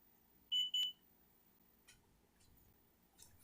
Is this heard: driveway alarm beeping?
yes